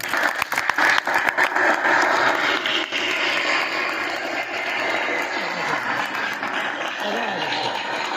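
A college audience at a Punjab Culture Day event applauds to welcome students onto the stage, loud sustained clapping that fades slightly over several seconds, with some voices audible underneath.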